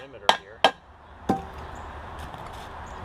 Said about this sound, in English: I'm just going to just hammer it around the perimeter here.